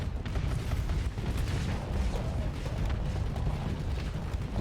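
Weapon volleys and explosions in the Starsector space combat game pile into a dense, continuous roar of rumbling blasts and bursts, loud and sustained with no talk.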